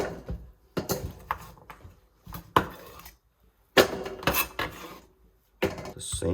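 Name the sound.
chopped Korean radish pieces moved into a big bowl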